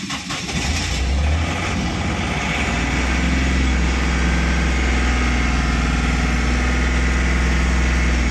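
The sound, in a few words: small truck diesel engine idling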